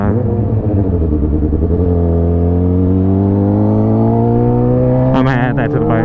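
Suzuki GSX-R600 sport motorcycle pulling hard at high speed: loud, close engine note with rising harmonics climbing through the revs, then a steadier high drone, with a brief rattly burst near the end.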